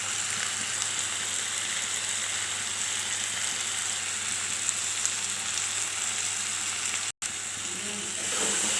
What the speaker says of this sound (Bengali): এইভাবে ভালো করে ভেজে সামান্য একটু জল দিয়ে ঢাকা দিয়ে দেব